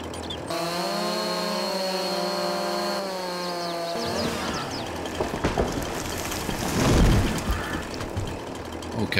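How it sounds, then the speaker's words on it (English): A chainsaw engine drones steadily, then bites into a tree trunk with a rougher, louder grinding roar that swells and fades. "And let's fire up the chainsaw."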